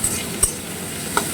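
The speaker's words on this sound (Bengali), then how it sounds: "অনেকটা এবার এটাকে লাল লাল করে ভাজতে হবে।" Chopped onions sizzle in a hot pan under a soft frying hiss, with a couple of sharp utensil scrapes from stirring standing out near and clear.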